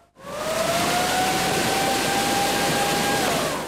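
Civil defense sirens wail steadily and loudly over a city being swallowed by floodwaters during the March 2011 tsunami in Japan, one sustained tone holding nearly unbroken against a dense rush of background noise.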